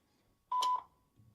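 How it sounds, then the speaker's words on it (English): Voicemail beep on a phone call, a single short electronic tone heard once, fairly faint over a quiet line. "you can leave a message after the beep"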